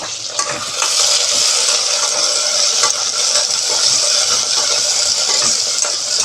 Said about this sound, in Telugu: కొంచెం ఇలా ఆయిల్లో ఫ్రై అవ్వాలన్నమాట